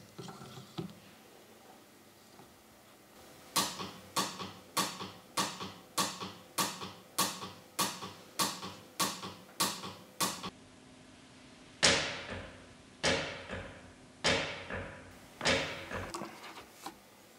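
A welding device with a wireless handpiece fires a rapid series of sharp, evenly spaced spot-weld clicks, then a slower handful of louder snaps, close by and with no talking.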